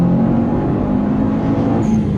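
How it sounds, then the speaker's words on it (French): A Subaru Forester STI, a four-wheel-drive sporty SUV, pulls hard under acceleration from second into third gear, its engine note loud, close and continuous, with rising harmonics and no voices over it. "Allez, on va se faire une petite accélération en 2 à 3005."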